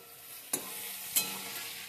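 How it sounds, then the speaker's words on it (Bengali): Potatoes with ginger and green chillies are stirred and fried in a pan: two sharp utensil scrapes stand out over a steady sizzle, with no talking. "আর একটু আমি নেড়ে চেড়ে নেব"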